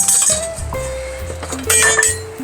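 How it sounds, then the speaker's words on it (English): A whisk clinks and taps against a bowl while beef stock is made from roasted bones, a quick string of bright metallic and glassy knocks with ringing tones, close and loud. "I'm going to switch up to a whisk."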